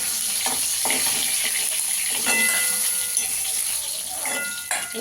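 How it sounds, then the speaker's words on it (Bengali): Fish pieces fry in oil until reddish-brown, giving a steady sizzling hiss with irregular crackles and small pops, close by and fairly loud, without speech. "মাছগুলোকে একটু লাল লাল করে ভেজে নিতে হবে।"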